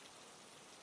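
Steady, dense rain hisses evenly with a soft patter, a constant wash of sound without any break or voice.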